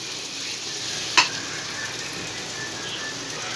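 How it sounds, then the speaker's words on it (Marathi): Buttered garlic bread slices toast butter-side down in a pan with a soft, steady sizzle and one brief sharp click partway through, close and fairly quiet. "आता हे आपण छान पॅनमध्ये भाजून घेऊयात।"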